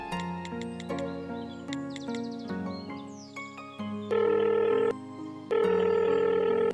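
Telephone dialing a call: a run of short electronic key tones pressed one after another, then a ringback tone that sounds in two long pulses with a pause between them, close and clear with no talking.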